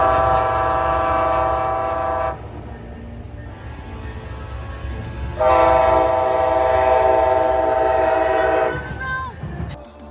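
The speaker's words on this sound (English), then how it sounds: "When I was filming Amtrak 19, a southbound came my way." Amtrak 19, a passenger train, passing close and loud with a rumbling roll and a sustained multi-tone horn blast, a short break, then a second long horn sounding before the noise trails off.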